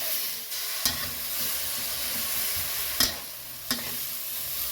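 A spicy Thai beef stir-fry with added water bubbles and hisses steadily in the pan, and a few sharp utensil knocks against the pan stand out as it is stirred.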